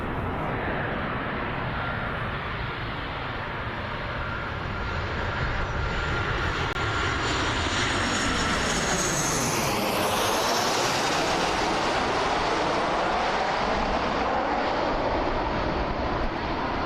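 A KLM airliner from Amsterdam roars at Birmingham Airport, a loud continuous jet rumble and whine that swells and shifts in pitch as the plane passes close by, with no talk over it.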